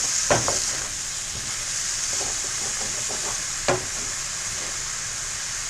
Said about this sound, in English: Now I'm getting in there, scraping off all those brown bits.